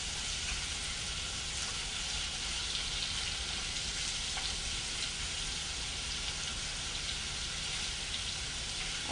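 A meat mixture browns in a hot pan, giving off a steady, even sizzle and crackle like light rain that holds at one level throughout, with no talking.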